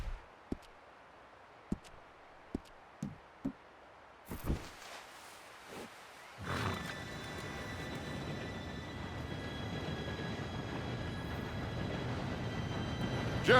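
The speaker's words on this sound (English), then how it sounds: "Train should be here any minute now." In the video game Red Dead Redemption 2, a few sparse clicks and knocks give way to a train's loud, broad rumble that swells in and holds steady as it approaches.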